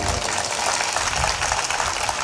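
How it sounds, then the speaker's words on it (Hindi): Satsang audience clapping in a village gathering in Lakhnau district, Uttar Pradesh, a dense steady wash of many hands sustained throughout at even loudness with no voice over it. "थोड़ा जोर से ताली बजाओ"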